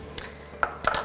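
Seasoning stirred into a dish inside an Instant Pot, a brief few scrapes and metallic clinks of a spoon against the inner pot, close and fairly soft, with no speech.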